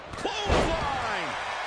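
Clothesline slam in the WWE 2K25 wrestling video game, a loud impact thud near the start with crowd roar and commentary continuing over it.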